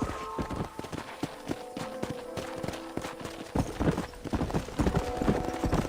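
Rapid clip-clop of horse hooves on hard ground in a corral in Red Dead Redemption, steady and close, with a brief whinny-like tone and ambient game-like background.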